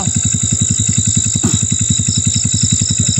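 A motorcycle engine runs at a steady, rapid idle, close by and loud, with a continuous even throb and a brief clatter partway through; no talk.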